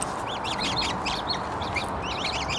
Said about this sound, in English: we've now got the following of all these coots, ducks, and everything